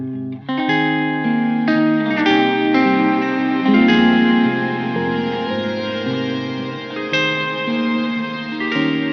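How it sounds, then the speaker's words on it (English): Dry guitar loop through a Strymon Cloudburst reverb pedal with no effect mixed in, played clear, a repeating phrase of plucked notes and chords at steady moderate volume, with no voices. "So this is the loop, nice and dry."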